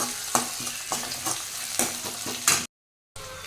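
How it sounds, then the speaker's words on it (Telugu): Curry leaves splutter and crackle in hot oil while mutton blood fry is being cooked, a steady close sizzle with sharp popping bursts and a brief gap of silence near the end. "ఇప్పుడు కరివేపాకు యాడ్ చేసుకోండి. నూనెకి కొద్దిగా దూరంగా ఉండండి, ఇది చిట్పట్లాడుతూ ఉంటుంది కాబట్టి."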